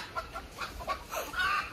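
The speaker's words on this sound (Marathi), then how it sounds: "कोंबड्या जिथे तिथे पळतायत." Chickens cluck in short, bright bursts as they run around at an outdoor gathering, a few close, fairly soft calls scattered over a low background rumble.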